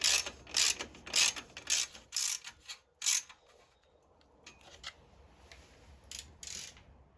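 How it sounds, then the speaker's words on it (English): Ratchet wrench clicking as an exhaust link pipe clamp is tightened on a Honda CRF 300 L fitted with a Black Widow exhaust: several quick bursts of close, crisp ratcheting, then quieter intermittent clicks with pauses. "Tighten up the link pipe clamp, make sure it's not touching anything."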